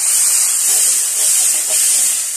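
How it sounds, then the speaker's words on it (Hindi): Soup poured into a hot masala tadka for goat paya gives a loud, continuous sizzling hiss up close, with no voices. "अब ये जो सूप है ये ऐड करेंगे, एक तरह का जबरदस्त तड़का बनेगा।"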